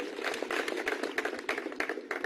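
Dense applause from a crowd at an outdoor public meeting for Modi, with a steady, close clatter of many clapping hands and no gaps.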